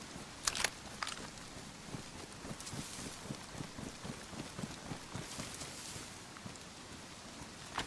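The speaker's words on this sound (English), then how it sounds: "it's raining" Rain falls steadily in the survival video game DayZ, a soft, even patter with occasional louder drops and faint wind, fairly quiet and without talk.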